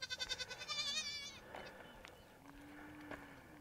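Baby goats bleating, a loud wavering high bleat up close at the start, followed by quieter farmyard sounds and a faint low call.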